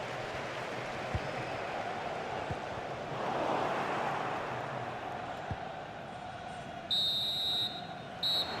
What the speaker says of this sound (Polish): Słyszymy gwizdek kończący pierwszą połowę.